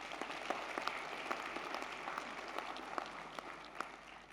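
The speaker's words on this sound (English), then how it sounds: "can we give a warm round of applause to Dr." Steady applause from a large audience at a university autumn graduation ceremony, continuous clapping with scattered sharper claps throughout, moderately distant and without talk.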